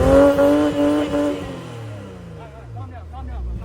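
A BMW X6 engine revs hard and loud up close, then its pitch slides downward as it settles toward a lower rumble, with brief squeaky tones near the end.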